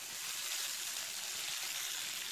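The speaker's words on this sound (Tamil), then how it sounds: "எண்ணெயில் கடுகுளுந்தம்பருப்பு, கருவேப்பிலை, 2 காஞ்ச மிளகாய் போட்டு" Steady, dense sizzling of mustard seeds, urad dal, curry leaves and two dried chillies frying in hot oil, close and continuous with faint crackles throughout.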